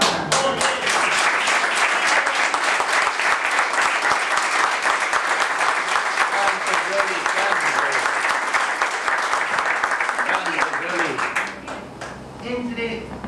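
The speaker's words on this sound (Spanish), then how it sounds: "El aplauso es para Yoli Barrán." A theatre audience at a tango show in Argentina gives sustained, dense applause, loud and close, tapering off near the end while someone speaks over it.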